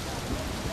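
Heavy rain falls as a continuous, even hiss with low rumble, filling a very short stretch without a break.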